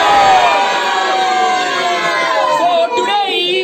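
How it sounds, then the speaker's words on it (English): A group of children at a fourth birthday party scream together at full volume, a loud, close, sustained chorus of high voices with no pause. "I want everyone to scream happy birthday."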